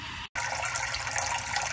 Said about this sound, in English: the water has just started going out of the protein skimmer chamber and is now starting to fill our next chamber